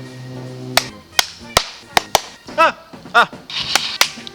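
A string of sharp hand claps out in the woods, close and irregularly spaced, with brief voiced sounds and a scuffle of movement in between.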